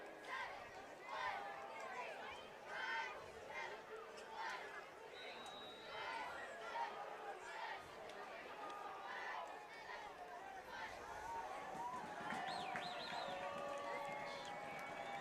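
The home crowd at a high school football game, Pleasant Grove hosting Green Canyon, roars and yells steadily through a long field goal attempt, the noise swelling near the end.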